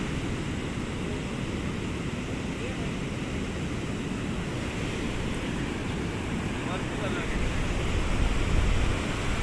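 Continuous roar of rough surf at high tide on a beach, broad wash of crashing water with wind noise, swelling louder toward the end; no clear speech.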